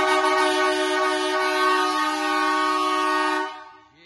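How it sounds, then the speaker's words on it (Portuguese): A Fiat Cronos sounds its horn kit of two marine horns and three trumpet horns together in one loud, sustained, chord-like blast for about three and a half seconds, then cuts off abruptly. "Abre aí que eu vou mostrar as buzinas aqui, você vai ver que maravilha"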